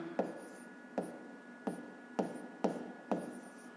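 Handwriting with a pen or pencil during a fifth-grade maths exercise on comparing fractions: six quiet, evenly spaced strokes and taps about every half second, each fading into soft scratching, with no voices.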